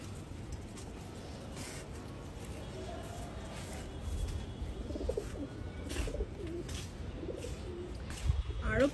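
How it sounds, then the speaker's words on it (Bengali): Pigeons cooing outdoors, soft low coos repeating through the scene beneath a person talking nearby. "এই যে কবুতর গুলো দেখেছো? কবুতর, কত কবুতর।"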